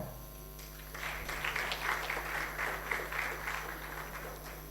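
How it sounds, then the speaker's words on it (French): An audience at an AI startup panel event applauds as panelists are welcomed, the clapping swelling after a brief pause and holding steady at moderate volume with a low mains hum beneath. "sur vos applaudissements, s'il vous plaît"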